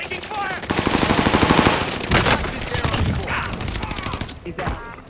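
Rapid automatic gunfire crackles through a battle royale firefight, dense bursts of shots near and loud across most of the stretch, with game sound effects layered in.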